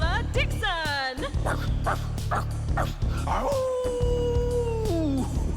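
A voice imitates a dog, barking, yipping and then howling with long sliding pitches, loud and close over a steady background hum.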